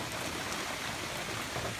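Steady rain pattering on a tarp at an off-grid homestead after high winds, a dense, even hiss that fills the short stretch without a break and with no voices.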